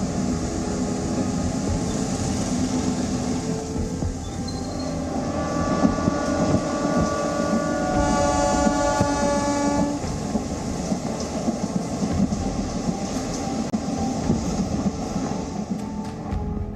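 A train runs along the rail line to Bastar in Chhattisgarh with a steady rumble and clatter of wagons, and a horn sounds for a few seconds midway, with no talking.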